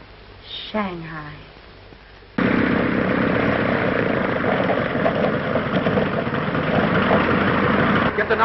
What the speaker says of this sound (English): Get the number of that plane.